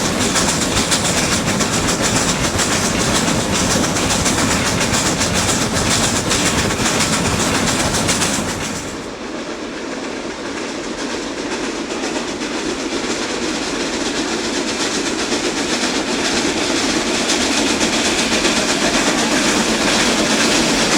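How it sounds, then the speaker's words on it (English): A steam train on the Niles Canyon Railway runs eastbound into the canyon, its loud, steady rumble and wheel clatter close by, briefly dipping in level midway before surging back to full strength. "With the passengers back on board, the train steams eastbound into Niles Canyon."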